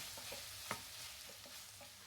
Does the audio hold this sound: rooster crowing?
no